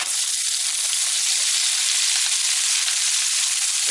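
Vegetables stir-fry fast in a pan at high temperature, giving a loud, steady, unbroken sizzle that stays close and constant throughout, with no voices.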